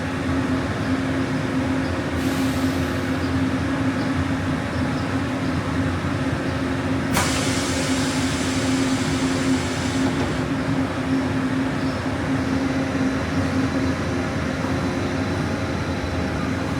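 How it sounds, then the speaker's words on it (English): Riding aboard the Disneyland Monorail, a steady whirring drone with a constant electric hum fills the cabin throughout, with a couple of brief airy swells of passing noise. "welcome aboard the Disneyland Monorail"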